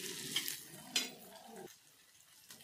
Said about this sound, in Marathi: आता याला आपण इथे छानपैकी मिक्स करून घेऊ तेलामध्ये